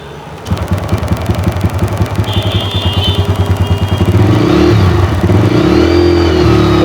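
A second-hand motorcycle at a used bike dealer cranks and catches, settles into a loud, close, pulsing idle, then revs up into a sustained higher roar.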